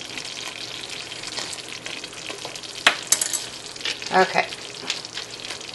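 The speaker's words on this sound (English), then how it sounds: "Gonna stir that up" A spoon stirs hot fudge sauce with vanilla in a pan, giving a soft ongoing bubbling hiss with a few light clinks and scrapes, and a short spoken word partway through.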